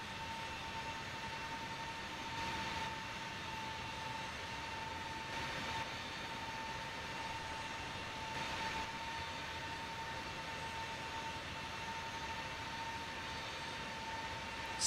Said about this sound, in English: Starting pushback now. We're moving back smoothly.